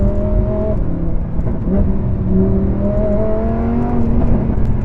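A Lamborghini Huracan LP580-2 engine revs hard and climbs steadily through the gears on a UK road, a loud continuous roar heard from close by with no talking.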